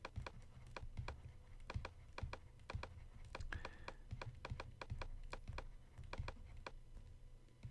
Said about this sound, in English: so we'll type the number